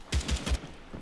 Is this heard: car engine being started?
no